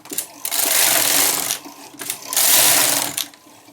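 A knitting machine with a ribber attachment runs its carriage across three more rows, giving two long, loud whirring, clattering passes separated by brief pauses, close up and with no voices.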